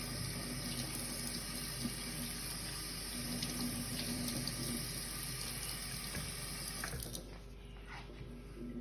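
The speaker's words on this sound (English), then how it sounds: "Clean y'all vegetables," Tap water runs steadily into a kitchen sink as vegetables are rinsed for a crawfish étouffée, a continuous hiss close by that softens slightly near the end.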